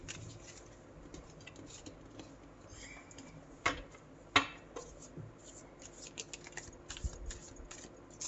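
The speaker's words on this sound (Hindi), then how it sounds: "जिसकी वजह से मुझे भी अभी शफलिंग का इनका प्रैक्टिस नहीं है।" Brand-new tarot cards being shuffled by hand, a soft papery riffling with scattered clicks and two sharper snaps midway, close and quiet, with no talk over it.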